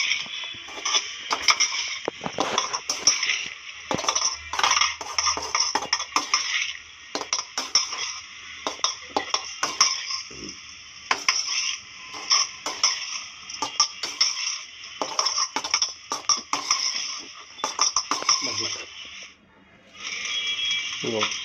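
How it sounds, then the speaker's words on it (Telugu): Egg fried rice being stirred and tossed in a pan, with dense metallic scraping and clattering of the spoon against the pan running almost continuously alongside a steady hiss, briefly easing near the end. "రైస్లో బాగా మిక్స్ చేసుకోవాలి బాగా కలపాలి"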